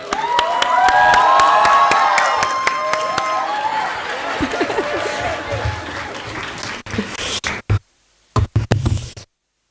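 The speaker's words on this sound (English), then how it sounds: "Please give a biggest round of applause to our favorite Rohan sir." Audience at a startup competition grand finale in a college hall breaks into loud applause with high whoops and cheers, then thins to scattered claps and thumps before falling silent.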